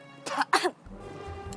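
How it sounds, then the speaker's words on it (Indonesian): Two sharp, close coughs come from a person clearing a choked throat during a drama scene, followed by quiet room noise. "Gua keselak."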